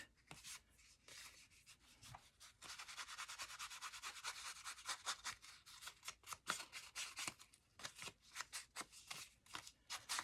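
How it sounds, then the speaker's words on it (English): Scissors trim a small edge of paper in a rapid series of crisp snips and rustles, close and quiet, with uneven bursts of cutting and no talking. "I'm going to trim this little edge with scissors because I don't want to rip the paper."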